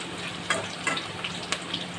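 Cabbage with chicken gizzard and liver fries in a pan with a soft, steady sizzle broken by a few sharper pops and crackles, heard close with no voices.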